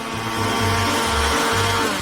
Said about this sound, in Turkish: Bunu bir mikserle çabucak yapacağım.